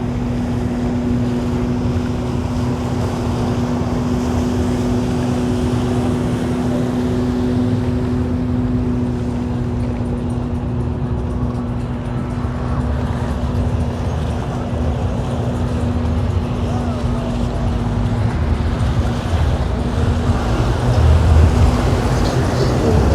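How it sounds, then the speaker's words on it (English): Steady engine drone of a personal watercraft out on Lake Ontario off the Toronto waterfront, distant and continuous, mixed with wind and ambient noise for the whole stretch. "There's someone out on a Sea-Doo."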